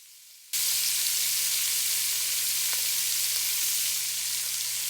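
Shrimp searing in batches in a hot pot for white shrimp adobo, a steady loud sizzle of frying that starts abruptly after a brief quiet moment and continues evenly, with no talk.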